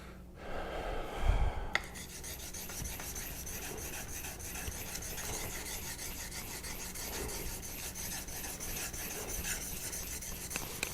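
Convex knife worked over a Naniwa diamond whetstone, a quiet, dense run of rapid rhythmic rasping strokes, close up, continuing steadily after a brief bump at the start.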